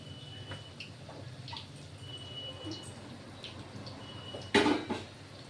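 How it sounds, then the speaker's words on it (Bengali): Jute leaf and lentil fritters deep-fry in oil with a faint, steady bubbling under a few light clinks, followed by one sharp metallic clatter near the end. "হ্যাঁ, ছাকা তেলে এরকম ভাবে ভাজতে হবে।"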